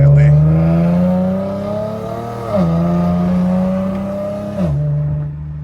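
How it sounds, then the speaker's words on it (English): An RWD Infiniti G37 with an exhaust leak under hard acceleration produces a loud, close engine drone that climbs through the gears, with the pitch dropping at each shift. "Yeah, y'all can hear that leak."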